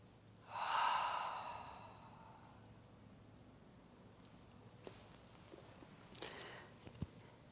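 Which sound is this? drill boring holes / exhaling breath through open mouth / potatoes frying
exhaling breath through open mouth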